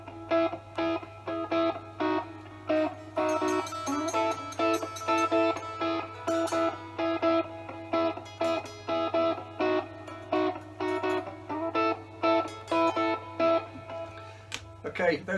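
A distorted electric rhythm guitar part, played solo in a home recording of an instrumental track, chugs in steady, repeated strummed bursts with short gaps, loud and close, over a constant low hum.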